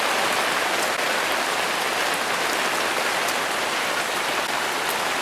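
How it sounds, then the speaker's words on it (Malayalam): Steady rain pours down through a vine bower onto a passion fruit vine, a dense, even hiss of drops hitting leaves that holds constant and fairly loud throughout, with no voices. "ഉള്ളിലേക്ക് മഴ പെയ്ത് പാഷൻ ഫ്രൂട്ടിന്റെ മേലെ കൂടെ തന്നെ വീണുകൊണ്ടിരിക്കുന്നു"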